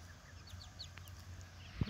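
Hens cluck softly close by in a coop, with short repeated chirpy clucks and a brief louder low sound at the end over quiet background.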